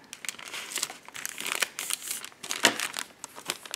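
Paper backing being peeled off a homemade ink splat sticker: a close, dry crinkling and tearing rustle in several short bursts over a few seconds, with no talking.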